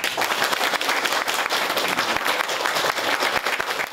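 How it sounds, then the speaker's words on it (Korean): Audience applause at a Korean presidential event, dense steady clapping from a sizable crowd sustained throughout at fairly loud level, with no voices standing out. "대통령으로서 여러분께 감사 박수합니다."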